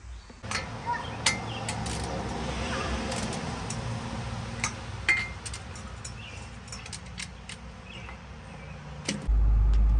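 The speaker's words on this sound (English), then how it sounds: "I'm gonna try to start this up and keep it running strong" A Chevrolet IROCZ with a new throttle body idles with a low, steady hum, while clinks and light metallic rattles sound nearby and a louder rumble swells at the very end.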